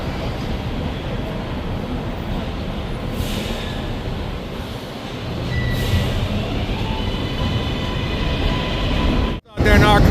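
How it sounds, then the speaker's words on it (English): A subway train rumbles through a station on Roosevelt in New York City, its noise building and hissing, then a sharp break before the roar resumes loudly near the end. "Subway station over here on Roosevelt."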